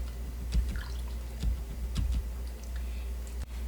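Mushrooms stirred into Lao bamboo soup (gang nor mai) in a pot: soft wet squelches and light clinks from a spoon in irregular strokes, close up over a low steady hum.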